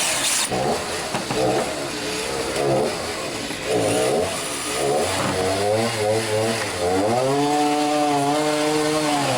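A chainsaw revs up and down loudly, its whining engine pitch rising and falling repeatedly, running continuously close by.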